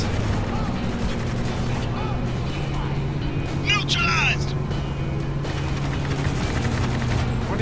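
Gunfire in the Spec Ops: The Line video game rattles as a dense, steady barrage under shouted voices and a low rumble, with a brief whistling swoop in the middle.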